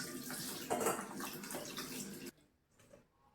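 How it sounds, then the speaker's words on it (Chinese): White beech and shiitake mushrooms being washed in water, a close splashing and sloshing for about two seconds, then quiet with faint drips and small movements. "趁这个时间洗一点白玉菇、香菇"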